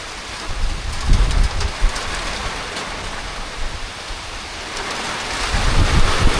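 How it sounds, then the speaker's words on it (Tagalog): Rain falls steadily in a continuous loud hiss, with heavier gusts of pattering and low rumbling swells, no voices heard. "Naulan."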